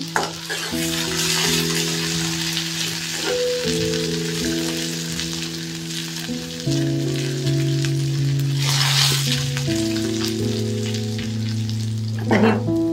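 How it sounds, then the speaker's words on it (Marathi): Cumin seeds and a single green chili sautéing in a pan, a continuous loud sizzle with occasional scraping stirs, under steady background music. "हे जिरं आणि मिरची, एकच मिरची घेतलेली आहे, ती अशी परतणार आहे"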